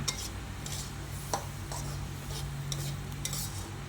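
Pork belly with pea eggplants and holy basil is stir-fried in a pan, with a spatula clinking and scraping against the metal in quick, irregular strokes over a soft sizzle.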